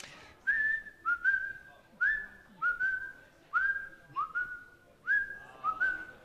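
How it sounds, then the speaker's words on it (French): A person whistles a well-known film tune as a guessing-game hint on a French TV quiz show, a clear melodic line in short rising phrases, seven or eight repeated notes with brief pauses, close and alone over faint background. "va vous siffler cet indice pour ce film"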